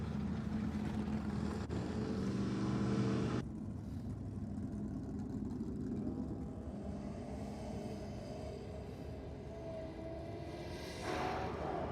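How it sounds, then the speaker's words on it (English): A Holden Monaro on big rear radials drag races an FG Falcon down a strip, its engine roaring loudly at first, then settling into a sustained, more distant drone that rises again near the end. "Well, nothing wrong with the Monaro there, Mark."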